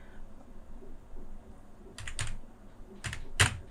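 Keystrokes on a computer keyboard while a captcha is typed into an online form, a few scattered clicks followed by short bursts of quick taps, fairly close but soft, with no talking.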